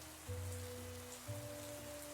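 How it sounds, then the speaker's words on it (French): Heavy rain beats steadily in a broad hiss, with a faint low hum beneath that drops in and out. "il pleut de plus en plus fort"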